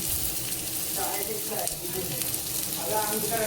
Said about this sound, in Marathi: छान परतवून घेते कांदा, आलं, लसूण